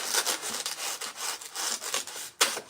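Close, steady rasping strokes of spring centerpiece stems being trimmed, a rough back-and-forth scraping repeated in quick rhythm, ending with one sharper burst.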